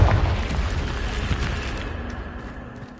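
A Confringo fire spell bursts in Hogwarts Legacy with a loud, low boom at onset, then a rumbling blast that slowly decays over a few seconds, with no voices over it.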